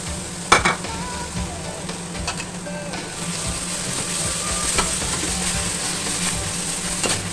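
Two tomatoes fry in a pan with coriander and spice powders, giving a steady close sizzle with scattered clicks and scrapes from stirring.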